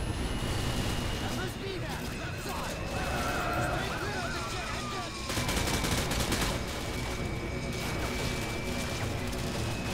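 Gunfire and a grenade blast in Call of Duty Modern Warfare 2 during the No Russian mission, bursts of shots and a crashing explosion amid continuous battle noise, with a voice talking over it.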